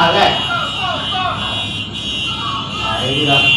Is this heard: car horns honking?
yes